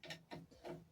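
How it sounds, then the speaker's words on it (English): A cheap ratchet spanner clicks three times in quick succession, close and dry, with no other sound around it. "ratchet spanners that I got from Aldi"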